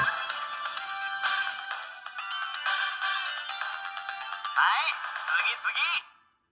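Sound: video game background music

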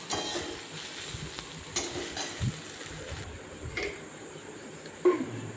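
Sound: stirring and frying sesame seeds in a pan

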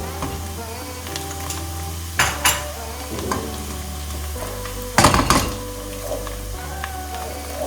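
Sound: sautéing onions with tomato paste and pepper

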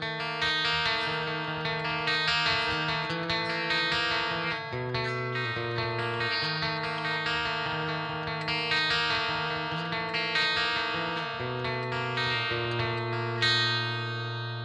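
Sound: electric guitar, Strat style, played through effects

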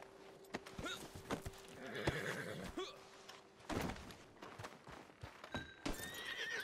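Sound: horse neighing in video game Red Dead Redemption 2

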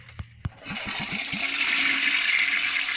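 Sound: toilet flushing in horror video game The Baby in Yellow

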